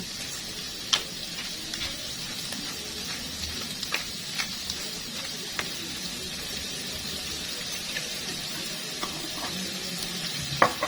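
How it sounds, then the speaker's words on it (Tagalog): Shrimp sautéing with garlic and onion in a pan for Baguio beans, a continuous close sizzle broken by occasional sharp clicks and scrapes of stirring, with no voices. "habang ginigisa po natin yung ating hipon sa bawang at sibuyas"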